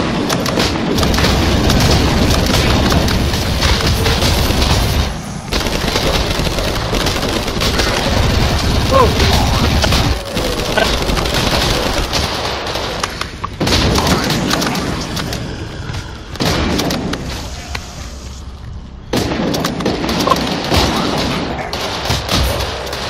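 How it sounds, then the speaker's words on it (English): Sustained minigun fire in the virtual reality game Outbreak Origins, a loud continuous roar of rapid shots with brief pauses between long bursts, mixed with booms and voices talking over it. "with the minigun, hold your trigger down."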